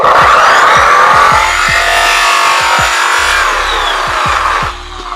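Bar of polishing compound pressed against a spinning buffing wheel on a polishing machine, a loud steady whine with rising and falling pitch over low thumping rotation, held side to side for a few seconds before the motor noise drops away.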